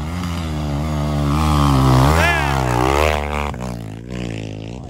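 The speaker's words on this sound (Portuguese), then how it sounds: "Motinha tá acelerando, hein?" A Honda CRF250F dirt bike revs hard on a hilly trail, its loud rising and falling engine whine rolling through several throttle surges up close, then cutting back near the end.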